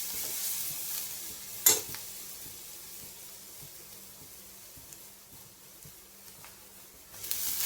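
Dal sautéing with fenugreek leaves in a hot pan, a steady soft sizzle with occasional stirring scrapes and a sharper clank near the start, close and continuous, no talk.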